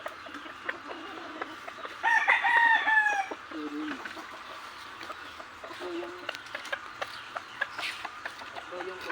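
Backyard gray chickens and roosters clucking at feeding time, with a rooster crow standing out early and scattered clucks and pecking noises, fairly faint, alongside a voice.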